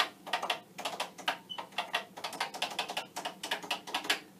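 Rapid clacking of a 1979 Commodore PET keyboard, keys struck in quick uneven bursts with brief pauses, close and fairly loud.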